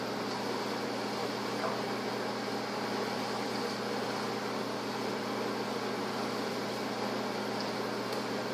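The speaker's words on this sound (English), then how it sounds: "you're going to microwave your Cool Whip and your Baker's chocolate" A microwave oven hums steadily as it heats Cool Whip and Baker's chocolate, a continuous even drone with a faint fan-like hiss and no voices.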